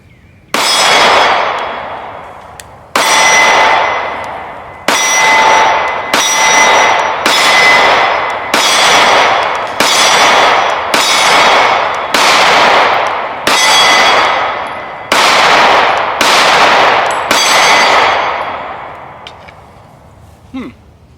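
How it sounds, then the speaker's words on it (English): IWI Masada subcompact pistol shots, about eleven sharp, loud reports fired at a steady pace of roughly one every one to two seconds, each ringing out briefly outdoors. "here to shoot the gun, to see how it performs, and that's what I'm about to do. IWI Masada Subcompact."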